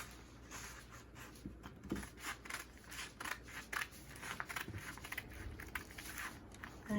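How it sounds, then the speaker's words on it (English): Scissors snipping through dress fabric along a marked curve, faint repeated crisp cuts in irregular bursts, close by with no talking. "So you continue cutting to cut out this dot here."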